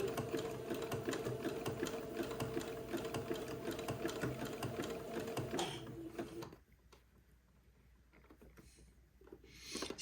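A sewing machine zigzag-stitches gathered lace onto entredeux, a rapid, even mechanical chatter running close and steady for several seconds before stopping, followed by quieter handling noises.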